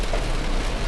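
Heavy rain drums on a car's roof and windows during a road trip in an electric VinFast VF3, a dense, steady wash of close patter with no talking.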